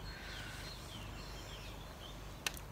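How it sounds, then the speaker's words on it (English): Birds sing faintly outdoors on Leith Hill, with thin chirps and short whistled phrases over a low, steady background hum, and a single brief click near the end. "I hope you can hear the birds"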